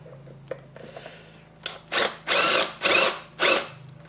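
A power drill bores into a wooden dowel rod for a mini marble coaster, revving in several loud, close bursts of rising whine after a few quieter starts.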